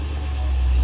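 Cadillac CTS-V wagon with an LS V8 engine and long tube headers, idling with a steady, loud low rumble that swells slightly, no talk over it.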